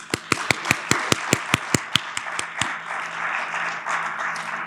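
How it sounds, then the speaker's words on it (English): An audience at a conference presentation claps in a sharp, regular rhythm, about a dozen distinct claps, then fades into lighter scattered clapping and murmur. "please, a round of applause"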